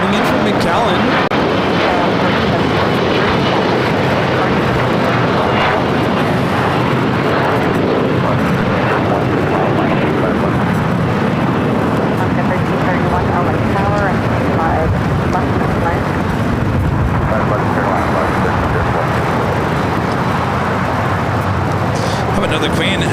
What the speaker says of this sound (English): Legion Air 2404 coming in from McAllen